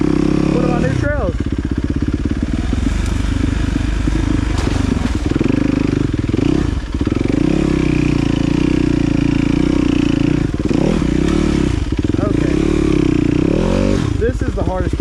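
A dirt bike with new plastics rips along a freshly cut trail, its engine loud and close, revving and dropping repeatedly as the rider works the throttle through the terrain, with brief clatter over bumps.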